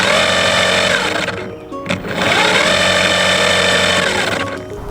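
A cheap electric outboard motor runs at close range, a loud continuous mechanical whine with a short dip in pitch partway through before it winds back up.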